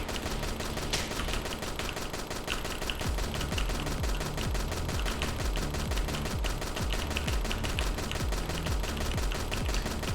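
Rapid repeated gunshots in a pixel art video game come in dense, evenly spaced bursts of sharp retro blasts that run the full length at a steady loud level.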